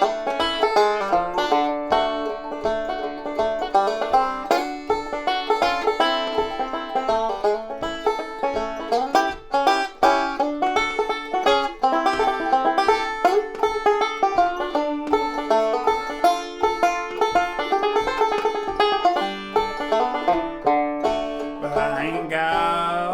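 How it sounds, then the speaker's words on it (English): A 5-string banjo picks a bluesy tune, Honey Baby Blues, with bright plucked notes over a steady bass thump, continuous and fairly loud throughout with no voices. "This is Honey Baby Blues played on the 5-string banjo."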